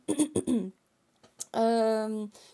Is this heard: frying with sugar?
no